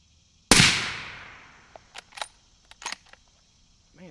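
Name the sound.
suppressed Remington 783 rifle shot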